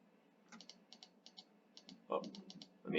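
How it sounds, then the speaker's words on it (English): Quiet, close typing on a computer keyboard, delivered in short clustered bursts of crisp key clicks with brief pauses between them, ending with a couple of heavier thuds. "I may need to type more before posting"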